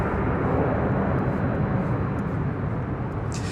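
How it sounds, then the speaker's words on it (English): A China Southern Cargo plane, inbound from Shanghai, passes over LAX as a broad, steady engine roar, loud and close, holding evenly for a few seconds with a faint brief higher hiss near the end and no voices. "That was China Southern Cargo Flight 441 coming in from Shanghai,"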